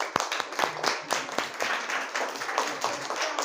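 A primary-school class claps together during an English rhyme lesson, giving loud, slightly uneven hand claps in a quick run that settles into a steadier patter, with a faint voice underneath.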